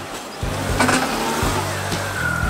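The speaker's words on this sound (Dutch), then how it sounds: "de auto maakt wat aparte geluiden" A car on the move makes odd noises: a rough, pulsing low drone broken by repeated short knocks and clunks in an uneven rhythm, heard close up with no talking.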